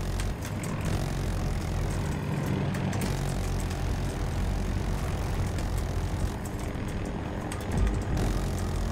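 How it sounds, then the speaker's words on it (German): Enemy helicopter in Battlefield 2042 flying over a battlefield, a steady low rotor and engine drone holding through the whole stretch with dense, constant rumble and no voices. "Da war doch eben noch ein gegnerischer Heli"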